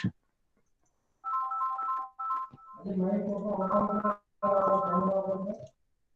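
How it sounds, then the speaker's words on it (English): A phone ringtone plays in short melodic bursts in a lecture room, loud and close, with pauses between phrases and someone speaking over part of it. "There is a phone, emergency phone."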